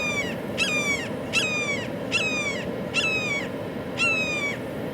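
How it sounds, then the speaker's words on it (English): A hawk calls repeatedly at Lake Apopka Wildlife Drive near Orlando, giving six sharp, descending screeching cries at a steady pace over constant outdoor background noise. "We have a hawk of some description up there though. It was just calling as well."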